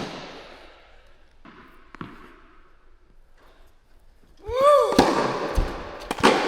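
Tennis forehands struck with a racket during a casual match between brothers: a faint, distant thwack early on, then a burst of louder, closer impacts with clattering noise near the end.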